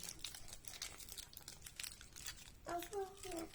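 Faint crinkling and crumpling of wrapping as a surprise toy egg's packaging is unwrapped up close, followed by someone speaking briefly near the end.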